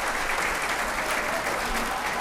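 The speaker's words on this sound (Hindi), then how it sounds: "इनका भी जोरदार ताली से स्वागत करेंगे" Seminar audience in Begusarai breaking into loud, sustained applause, a thick even roar of many hands clapping together without pause.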